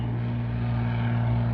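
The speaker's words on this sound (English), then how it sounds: "the L-13 taking off" An L-13 liaison aircraft takes off at an airshow, its engine giving a loud, steady droning hum that builds slightly and holds without interruption.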